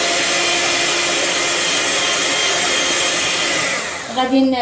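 An electric hand mixer beats eggs, sugar and vanilla for chocolate cupcakes: a steady, loud motor whine holds for about four seconds, then shifts and trails off at the end.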